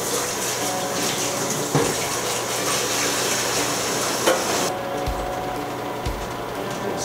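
Tap water runs steadily into a hot water bath used to warm a plastic film-developing container, a continuous hiss and splash for about five seconds before it stops and leaves only faint low thumps.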